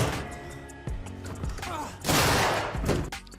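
Gunfire in a cutscene from the video game Alien: Isolation, a sharp burst of impacts followed by a louder, broad crashing blast, mixed with game sound effects.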